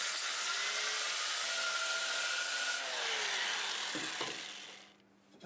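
A jatoba and walnut staved bowl spins on a lathe at about 400 RPM while 80-grit sandpaper is held against it, giving a steady loud broadband hiss that fades out near the end.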